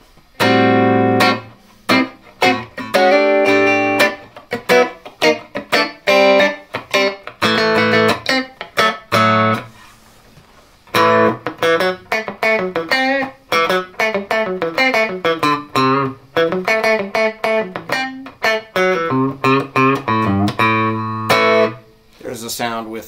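A clean electric guitar with no effects or reverb plays a melodic run of plucked notes and chords, dry and close, with brief pauses between phrases.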